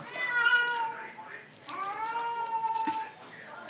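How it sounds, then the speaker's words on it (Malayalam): A pet cat cries with drawn-out, wavering meows, two long plaintive calls close to the listener, loud and clear with no voices over them. "പൂച്ച സാറ് കരയുന്നുണ്ട്"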